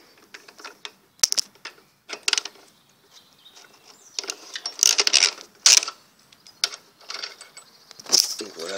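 A part is unscrewed by hand, giving close, crisp clicking and ratcheting bursts of varying loudness with brief quiet gaps between the turns.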